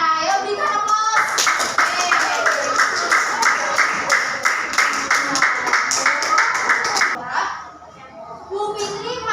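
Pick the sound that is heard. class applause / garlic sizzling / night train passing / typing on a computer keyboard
class applause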